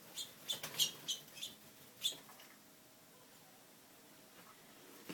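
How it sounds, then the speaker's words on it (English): Small birds trapped indoors in a bathroom give a few quick, faint high chirps and tweets near the start, then fall quiet in a small still room. "How am I going to get these birds out of here? They don't want to go."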